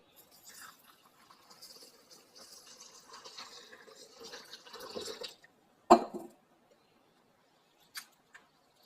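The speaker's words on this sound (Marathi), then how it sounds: "आपण आता ते स्वच्छ पाण्याने धुवून घेऊ आणि भिजत टाकू 1 तासासाठी" Soft sloshing and trickling water as rice for chicken biryani is rinsed by hand in clean water, fairly quiet, followed by a sharp clunk and a few faint drips.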